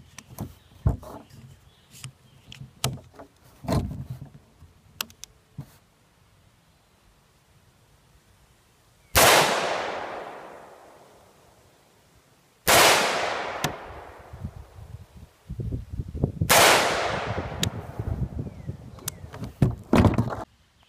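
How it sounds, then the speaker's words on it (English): Three loud DPMS Oracle rifle shots fired outdoors at a keg about 30 yards away, each a sharp crack with a long decaying echo, spaced a few seconds apart amid scattered handling clicks and thumps. "So we'll take some shots at it,"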